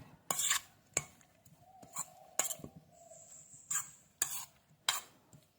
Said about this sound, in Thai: คนผสมให้เข้ากัน เราก็จะไปได้เป็นไส้ กุยช่ายนะคะ